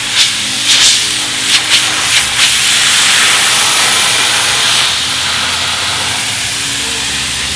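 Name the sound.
spraying glue onto jet ski tray mat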